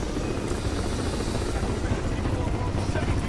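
An attack helicopter in the video game Crysis 3 makes a loud, continuous rotor thrum and whine that stays steady throughout, close and dominant, with game voices faintly mixed in.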